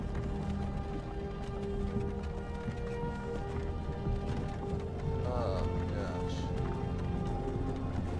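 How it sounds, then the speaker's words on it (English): Horses' hooves clip-clop steadily in the Skyrim video game, a rhythmic plodding under continuous wagon and ambient rumble, with a faint musical tone and a brief chirping sound. "Let's follow the horses."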